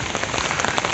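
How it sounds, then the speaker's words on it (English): Steady rain pours down on a rainy day in Entebbe, Uganda, a dense, continuous patter of drops striking surfaces close by, loud and unbroken with no voices. "It's been raining for a while and it's still continuing"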